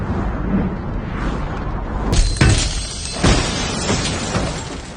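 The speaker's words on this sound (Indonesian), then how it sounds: "Tangerine memecahkan kaca kereta dan berhasil masuk ke dalamnya" Train window glass smashes in a loud, sharp shatter with crashing impacts and debris layered over rumbling action noise in a hitman thriller scene.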